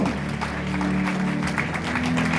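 A church congregation claps together, a dense, continuous wash of applause from many hands filling the room, steady and fairly loud throughout.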